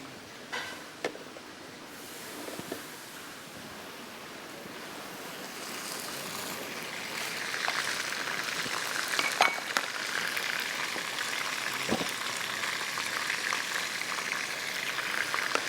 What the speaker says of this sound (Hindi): चने की दाल यहाँ पर बॉईल हो रही है